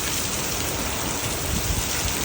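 Heavy rain driven by strong wind pours down outdoors over a road, making a dense, unbroken hiss that stays loud and close throughout, with no voices.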